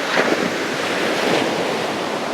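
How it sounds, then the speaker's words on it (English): Ocean waves crash steadily onto a sandy beach in a loud, continuous broadband rush, with wind buffeting the microphone and no voices. "I'm walking on a beach. The waves are behind me, as you can clearly hear."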